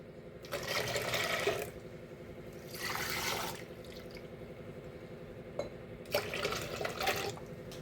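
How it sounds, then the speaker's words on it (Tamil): Water pours into a bowl of mango juice in three separate bursts with a splashy, liquid gush, pausing between each pour over a steady low hum. "உங்களுக்கு தேவையான அளவு தண்ணி ஊற்றிக்கோங்க."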